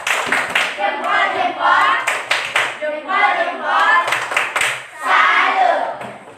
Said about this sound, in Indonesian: Benar, tepuk salut.